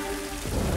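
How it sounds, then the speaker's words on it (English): Cartoon rain begins falling, a soft, dense patter that swells slightly toward the end of the brief moment, alone without voices. "Oh, it's raining!"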